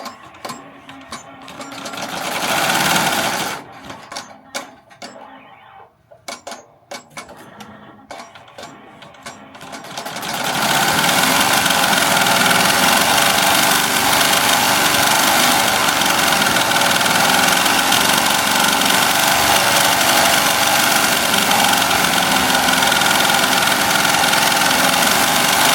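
An embroidery machine stitches a design onto a jacket at 1500 stitches per minute, a loud, steady, rapid mechanical hammering and whir that starts after about ten seconds of quieter handling noises and runs on continuously.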